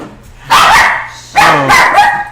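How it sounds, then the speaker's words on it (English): A puppy barking indoors, two loud, close yips, each with a quick follow-up whine. "that's my puppy"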